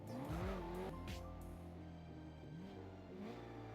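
A car driven in Garry's Mod: an engine revs up and shifts through gears with rising and falling pitch, while tires squeal and skid, loud and close throughout.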